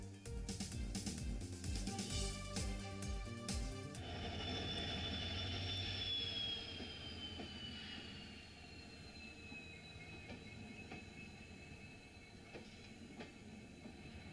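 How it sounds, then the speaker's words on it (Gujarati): A train runs on a newly restored track during a 110 km/h trial run between Vishwamitri and Dabhoi, at first with loud, rhythmic rumbling and clatter, then a fading roar and a long, high, squealing whine from the wheels. "110 કિલોમીટર પ્રતિ કલાકની ઝડપે ટ્રેન દોડાવાઈ છે"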